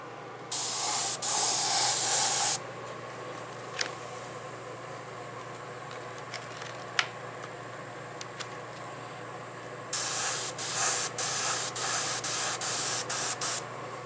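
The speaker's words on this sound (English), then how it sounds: "I generally just go in and I you know, kind of airbrush it" An airbrush sprays paint in two long hissing bursts, one early and one late, with quieter clicks and faint background between, close by and without talk.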